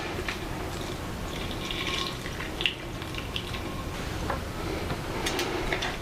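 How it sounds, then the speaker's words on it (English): Water is poured into a glass vase holding a hydroponic variegated peace lily, a soft steady trickle with faint drips and light clinks, close by and alone. "But I am going to add some more water."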